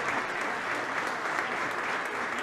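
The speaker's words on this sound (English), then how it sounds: "a generous round of applause from the big crowds here in Páirc Tailteann for Anya" A big crowd at Páirc Tailteann during a Meath versus Kildare Leinster Senior Championship match applauds steadily, a dense, sustained wash of clapping from many hands with no break.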